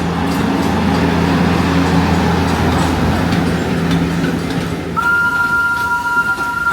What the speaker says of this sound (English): Look at how fun this train actually looks.